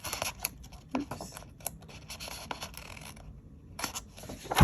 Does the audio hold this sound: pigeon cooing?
no